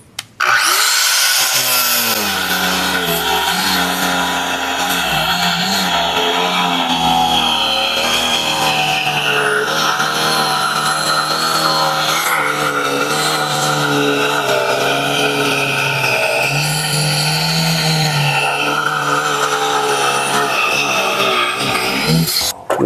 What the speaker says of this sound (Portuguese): Agora eu vou cortar com a lixadeira,